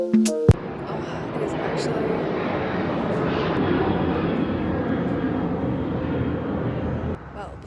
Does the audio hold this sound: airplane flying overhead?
yes